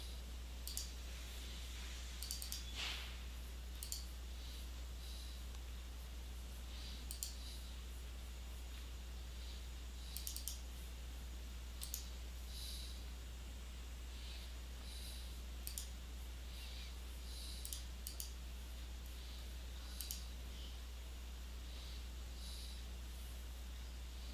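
A computer mouse clicks while image files are chosen and uploaded, sparse quiet clicks at irregular intervals over a steady low hum.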